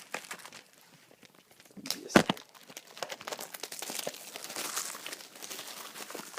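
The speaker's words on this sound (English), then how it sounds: "Tear off this plastic for you" Plastic shrink wrap is torn and crinkled off a Grand Theft Auto 5 game box, with close, quiet crackling and a sharp rip near the middle and scattered rustles afterward.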